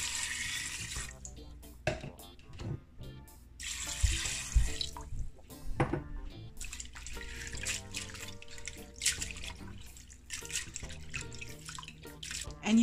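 Sea moss being washed by hand in water: soft splashing, sloshing and dripping in a bowl or sink, with intermittent handling noises and quiet pauses, fairly close and low in level, no talking.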